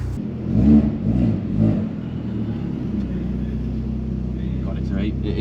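Vauxhall Zafira GSI with a loud exhaust revs up in two strong surges, then settles into a steady deep drone at idle, close and loud, with a voice briefly over the start.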